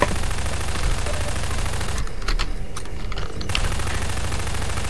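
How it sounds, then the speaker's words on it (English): Sustained automatic gunfire in the video game Half-Life 2, a loud, dense rattle of rapid shots that breaks off for about a second and a half before resuming just as heavily, no talking. "Why are you shooting at me?"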